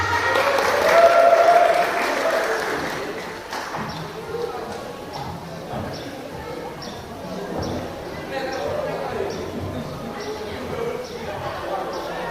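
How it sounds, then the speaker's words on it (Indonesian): Applause from an audience at a talk show event for Kopri PKC Jawa Tengah, a brief burst of clapping at the start fading into a steady room murmur as a presenter speaks over it. "Tepuk tangan untuk Kopri PKC Jawa Tengah."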